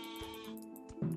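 Sheep bleat in the Mini World: Block Art video game, a few short nasal calls over a steady layer of tonal game music, with a louder bleat near the end.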